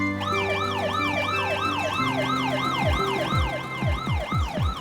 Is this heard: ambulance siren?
yes